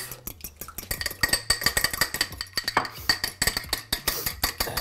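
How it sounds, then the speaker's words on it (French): An egg is whisked for an egg wash, a fork or whisk clicking rapidly and rhythmically against a bowl in quick, close, bright taps. "Pour la dorure, on va fouetter notre œuf."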